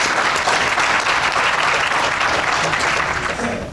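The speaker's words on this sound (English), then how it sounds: "our hosts deserve another big round of applause" Conference audience applauding its hosts, a dense, steady wash of clapping that holds loud for nearly four seconds before easing slightly at the end.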